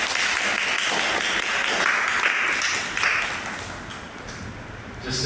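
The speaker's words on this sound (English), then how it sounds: "Let's give the Lord a mighty clap of praise." A church prayer group claps in praise to the Lord, a loud, sustained round of applause that thins out toward the end, with some voices faintly mixed in.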